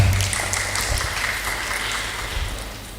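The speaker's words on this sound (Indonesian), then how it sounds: "Tepuk tangan buat beliau, luar biasa." An audience at a postgraduate academic lecture at UIN Mataram applauds the university rector, Professor Dr. Masnun, with a brief wash of clapping that starts loud and slowly fades.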